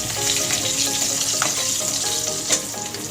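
Dried red chillies and slit green chillies crackle and sizzle in hot oil for egg posto, a dense steady frying hiss with a couple of sharper pops, close and loud, with no talking.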